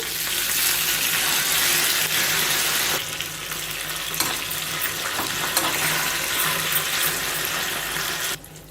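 Curry leaves and broken dried red chillies sizzle in hot tempering oil for a Telugu chutney, with the stove just switched off. A steady, loud crackling hiss runs throughout, shifts slightly partway, then cuts off near the end, with no voices.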